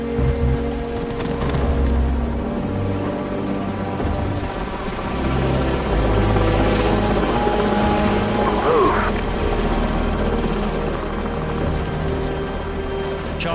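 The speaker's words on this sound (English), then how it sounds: "Enemy helicopters." Enemy helicopters in Call of Duty 4: Modern Warfare give a continuous low rotor drone that holds steady for over ten seconds, mixed with game ambience and faint distant battle noise.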